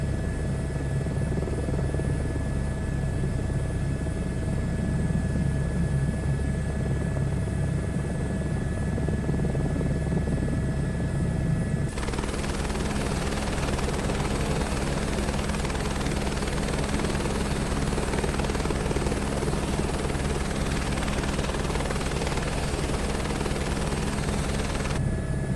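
A helicopter's rotor and turbine drone steadily in a VR flight simulator game, a continuous loud buzzing hum with constant tones that shifts in character partway through, with no one speaking.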